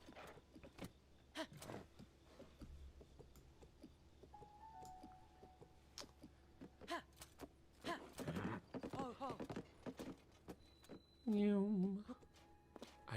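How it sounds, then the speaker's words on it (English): Horse hooves clip-clopping in a fantasy adventure game, sharp, irregular hoof beats at moderate volume, with a brief neigh near the end and a voice talking at times. "I definitely needed to ride my horse that far"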